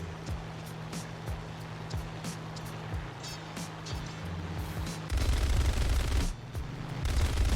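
Rapid automatic gunfire from an F-82E fighter's guns during a War Thunder air battle, bursts rattling over a steady engine drone, growing denser and louder near the end.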